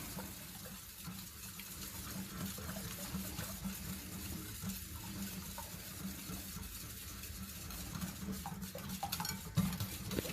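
Olive oil being stirred into a shallot sauce with a little chili for an octopus salad, a steady soft scraping and swishing that runs continuously under a constant background hiss.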